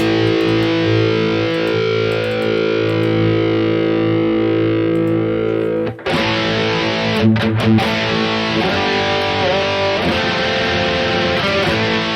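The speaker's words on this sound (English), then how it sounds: "So we have the chorus going in parallel to the dry signal." Crunchy Harley Benton Fusion electric guitar with a shimmering BOSS GT-1000 chorus in parallel with the dry signal rings out in sustained chords, briefly pausing then continuing with more strummed notes.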